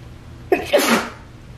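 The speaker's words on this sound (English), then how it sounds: "I got a sneeze that's coming" A single sharp sneeze bursts out after a quiet moment, close and loud, with a short breathy tail before fading back to room hush.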